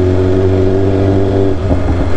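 A 1000cc motorcycle engine revving close by, a loud sustained drone held steady for about a second and a half before dropping briefly and rising again.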